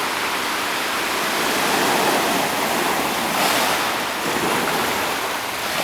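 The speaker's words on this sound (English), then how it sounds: "This is the push onto the shore. It's not a particularly tall wave" A tsunami surge pushes onto the shore at Kihei, Maui, a loud, continuous roar of rushing water that swells and eases slightly, mixed with wind buffeting the microphone, with no voices.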